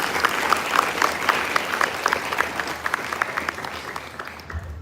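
An audience at a sixth form leadership summit applauds warmly after a performance, a steady wash of many hands clapping that thins and fades away near the end.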